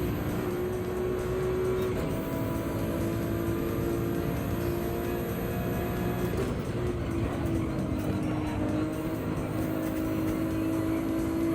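A Group 3 race car screams around Brands Hatch in a racing video game, its engine a loud, continuous high-pitched whine with steady pitch shifts as it powers through the corners.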